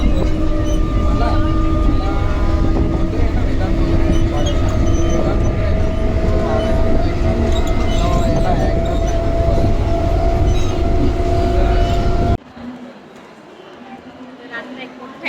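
Riding a local train in India, a loud continuous rumble of wheels and carriage with a steady droning hum and rhythmic clatter, then cutting to a quieter space near the end; voices sound amid the noise.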